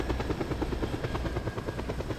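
Helicopter in the video game Just Cause 2, a steady rapid rotor chop with regular beating pulses and an engine drone, loud and continuous throughout with no talk.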